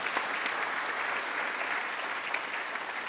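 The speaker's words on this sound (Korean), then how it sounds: "박수 한번 쳐드리세요" Steady audience applause at an entrepreneurship concert, a dense, even patter of many hands clapping at moderate volume with no talk over it.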